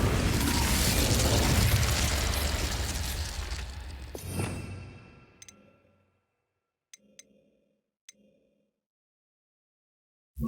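An Incendio fire spell is cast in Hogwarts Legacy, a loud roaring burst of flame that swells and then fades away over several seconds, followed by a few faint clicks.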